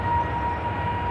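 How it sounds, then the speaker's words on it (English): Airbus A380 jet engines run up to full power for the first time, a loud steady roar with a sustained whine, continuous and close for the whole moment. "The engines are brought to full power for the first time."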